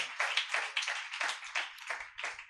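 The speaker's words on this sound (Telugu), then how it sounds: "నమ్మిన వాళ్ళు చప్పట్లు కొట్టి దేవుని నామాన్ని కనపరచండి" A church congregation claps in unison during an evening service, about eight crisp, evenly spaced bursts of hand claps with no voices over them.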